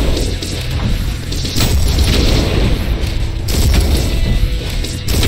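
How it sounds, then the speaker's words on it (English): In the video game ULTRAKILL, shotgun shells punched in mid-air explode in loud, heavy booms that roll one into another with crashing impacts and no pause between them. "You basically punch your own shotgun shells to give them a boost."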